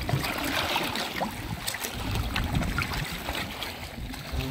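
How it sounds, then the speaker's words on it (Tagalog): Strong sea waves washing and churning, a continuous rough broadband wash with wind buffeting the microphone, moderately faint with no talk. "Malakas talaga ang alon."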